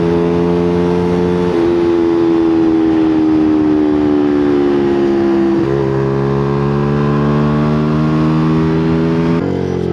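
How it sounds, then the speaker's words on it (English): A Maserati accelerating hard along an open road, its engine loud and close, with a rising tone that drops sharply at two gear changes before climbing again. "The Maserati on these roads"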